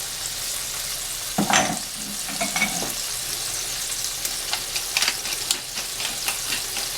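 Steak sizzles and fries in a pan, seasoned with salt and pepper, with a few clattering scrapes of a spatula stirring and turning it early on, then a steady crackling sizzle continuing alone.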